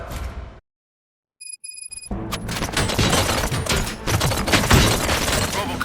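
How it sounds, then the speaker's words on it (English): Heavy video game gunfire in Robocop: Rogue City on PS5 erupts after a short silence, rapid bursts of shots and booms crowding together loudly, with a few electronic beeps just before. "Gunshots? What's going on?"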